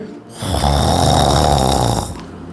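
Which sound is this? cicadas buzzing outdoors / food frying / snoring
snoring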